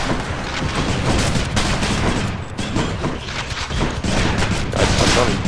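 Rapid shots from the adamant rail weapon in Hades, a fast, dense stream of bursts and impacts that stays loud and continuous throughout.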